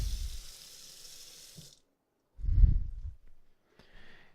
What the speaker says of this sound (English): I'm just going to turn on the tap water